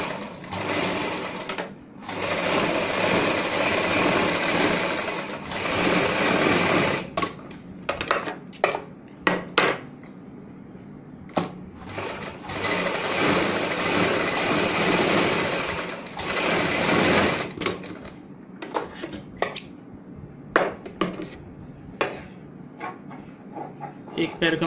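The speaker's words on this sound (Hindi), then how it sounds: "यहाँ पे भी हम बुकरम के साथ साथ सिलाई लगाएंगे।" A sewing machine stitches blouse fabric layered with buckram, running in long loud bursts of steady whirring with pauses between, plus a few short quick runs near the end.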